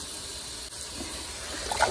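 Water gushing and trickling as curly mustard greens are rinsed in a basin, a steady close wash of liquid that swells into louder splashing near the end.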